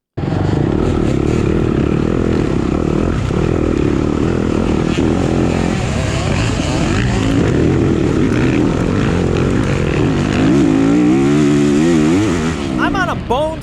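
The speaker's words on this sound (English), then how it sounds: "I'm on a bone stock YZ250F" A stock Yamaha YZ250F dirt bike races through a harescramble course, its engine loud and close throughout, revving and bogging continuously with wind rush and a few sharp rev swings near the end.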